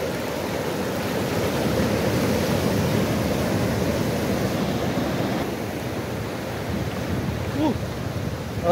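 Ocean surf at Jeffrey's Bay beach, a continuous roar of breaking waves mixed with wind buffeting the microphone, steady and loud across the whole stretch.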